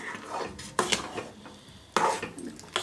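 Sugar being stirred in a pot while making Chandan Kath pitha, with a few sharp scrapes and clinks of a spoon against the metal, separated by quiet gaps and no talk.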